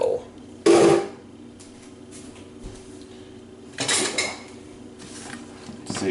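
A pot of melted butter and a bowl are handled while cooking smoked pulled pork, with two loud ceramic and metal clanks and scrapes, the second more drawn out, among quieter knocks and close handling noises.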